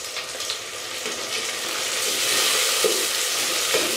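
Tomatoes fry in a hot pan with a loud, dense, crackling sizzle that swells slightly over a few seconds, with a couple of faint stirring knocks.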